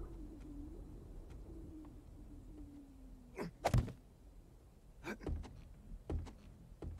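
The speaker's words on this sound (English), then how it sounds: "We're gonna get hit by birds along the way" Birds in the video game 7 Days to Die give a few brief calls and flaps against a steady ambient game background, with sharp sudden bursts standing out near the middle and toward the end.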